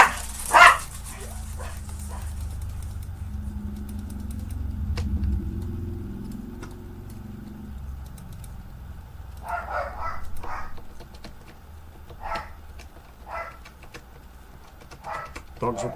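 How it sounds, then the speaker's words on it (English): Dogs barking near a house driveway, a sharp loud bark at the start followed by a cluster of repeated barks later, with a passing car engine rumbling in between. "Dogs are barking"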